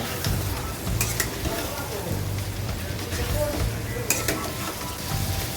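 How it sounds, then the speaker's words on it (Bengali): Potatoes fry in hot oil with spices in a home kitchen pan, giving a steady close sizzle broken by scraping stirs and occasional utensil knocks against the pan. "এবার আমি আলুটা ছেড়ে দেব আলু আলুটাও সুন্দর করে মশলার সঙ্গে কষিয়ে নেব"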